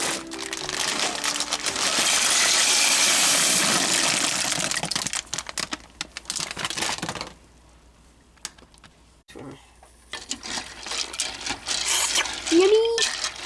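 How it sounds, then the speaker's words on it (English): Dry macaroni pours into a cooking pot as a steady, loud rattling rush for several seconds, then breaks into sparse clicks and rustles before a short rising tone near the end. "right now I'm going to pour my macaroni."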